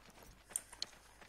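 Horse hooves clip-clopping in the medieval MMO game Life is Feudal, a few faint, quick hoof taps over soft background noise, with no talk over them.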